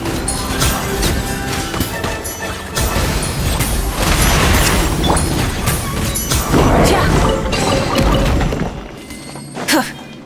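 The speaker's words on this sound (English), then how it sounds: "Time for some rough chopping." Knife chopping food in the Genshin Impact video game, a busy run of sharp cutting and thwacking hits that stay loud and dense throughout, mixed with other game clatter.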